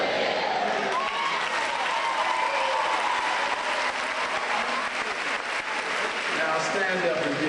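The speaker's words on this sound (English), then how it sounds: "Stand up and give yourself a standing ovation." An audience at a competition applauds throughout, a dense, steady wash of clapping from a large crowd, with voices mixed in as people rise for a standing ovation.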